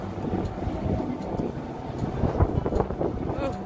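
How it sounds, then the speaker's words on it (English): Gusty wind buffets a microphone outdoors in Nashville in spring, a steady low rumbling roar with swelling gusts, close and continuous. "Ooh, that wind."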